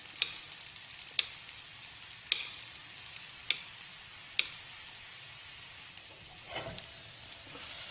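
Onions sizzle in a hot pan with a steady frying hiss, broken by sharp clicks and scrapes of stirring every second or so.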